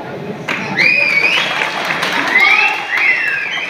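Audience applause at a Dashavatar folk drama performance, a steady wash of clapping that lasts a few seconds, with some rising and falling tones sweeping over it.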